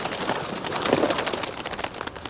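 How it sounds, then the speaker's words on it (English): Pigeons cooing in an animated children's movie, a soft burbling coo heard against a busy soundtrack of music and background noise. "Shoo, pigeons!"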